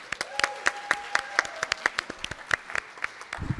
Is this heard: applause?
yes